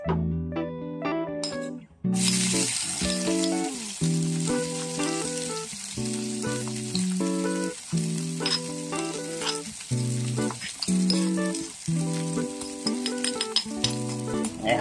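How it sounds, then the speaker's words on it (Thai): Chili and shallot stir-fried in oil left over from frying eggs: after about two seconds of quiet, a loud, steady sizzle starts and runs to the end, with strong tonal sounds over it. "มาครับผัดกันเลยครับนี่น้ำมันทอดไข่ตะกี้ครับ"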